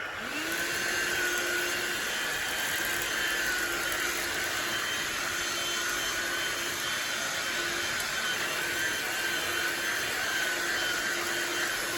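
A Black and Decker Lithium Dust-Buster handheld vacuum runs steadily and up close, giving a constant whining motor drone with a high tone that holds without a break and no talking.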